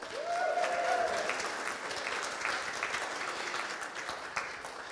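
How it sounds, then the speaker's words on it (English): Audience applause at a church service, steady and moderately loud clapping from a gathered congregation, with a brief whistle-like tone near the start. "Let's have a round of applause for Mr."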